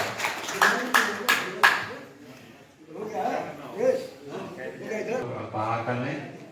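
Applause breaks out at a retired railway police association convention in Gorakhpur, a short burst of several claps near the start that gives way to a speaker's amplified voice over the hall.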